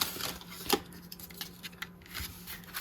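Scissors snip through paper for a journal cover in a quick series of faint, close cuts, with soft paper rustling between the crisp snips.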